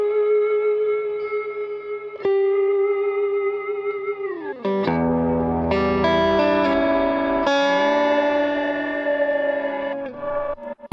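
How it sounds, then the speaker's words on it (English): An electric guitar runs through a BOSS GT-1000 with ring modulation on the reverb, giving sustained chords with a metallic, bell-like shimmer and pitch-smeared tails that change several times, played alone without talk. "Just put a bit of ring modulation on the reverb there."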